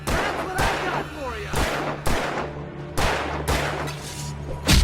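Gunfire in the video game Alan Wake, a series of loud booming shots fired at an irregular pace, each with a heavy echoing tail, while a voice talks between them.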